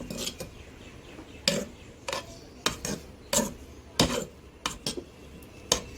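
Vegetable salad tossed together with a spoon in a bowl, giving irregular scraping and clinking strokes of cutlery against the dish, close and moderately loud with short pauses between movements.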